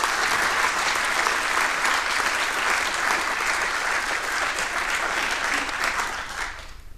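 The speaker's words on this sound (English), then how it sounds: "So a big applause for both of them and for the rest of the Orga team." Conference audience applauds the organisers at a network operators' closing session, a sustained, even burst of clapping lasting several seconds before tapering off at the end.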